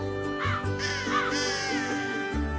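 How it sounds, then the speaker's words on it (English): Crows caw repeatedly in a morning setting, several hoarse calls rising and falling at moderate distance over a steady low background drone, with no speech. "the morning is filled with the patterns of calling crows"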